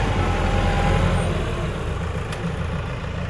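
An Erkunt Nimet 75 tractor engine hums at a steady idle nearby, low and rumbling, its tone shifting slightly partway through.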